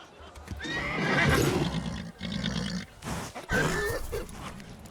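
A nervous, unbroken warhorse neighs and whinnies loudly at close range, with shrill, wavering calls broken by snorts and grunting breaths, in a tense scene before a battle.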